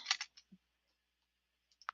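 A few scattered key taps on a computer keyboard, close and sharp, come in a short burst, then pause before a couple more clicks.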